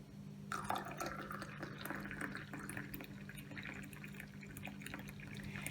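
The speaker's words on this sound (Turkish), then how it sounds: "Ve üzerine de baharatlı bal kabaklı sütümüzü ilave ediyoruz." Spiced pumpkin milk poured into coffee in a glass, a soft steady liquid stream with light splashing and dripping over a faint constant hum, moderately quiet and close.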